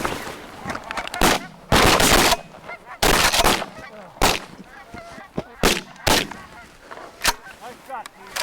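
Shotguns fire during a goose hunt in a series of loud, sharp blasts spread across the clip. Geese honk between the shots, and someone speaks briefly.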